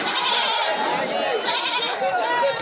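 Goats bleat loudly and repeatedly in overlapping calls at the Babarpur goat market in Auraiya, Uttar Pradesh, with crowd noise mixed in throughout.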